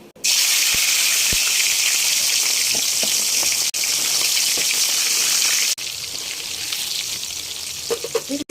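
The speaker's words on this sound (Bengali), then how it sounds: "কড়াইতে আমি তেল দিয়ে দিয়েছি মাছ ভাজার জন্য। তো আমি মাছগুলো এবারে ছেড়ে দেবো।" Loud, steady hiss of fresh hilsa fish frying in hot oil in a wok, close up, with a few brief breaks and small pops, no speech.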